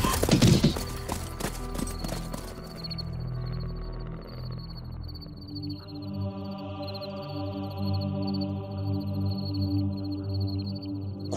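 Horses gallop in a race with a dense burst of hoofbeats at the start, then music with sustained tones rises and the hooves fade beneath it.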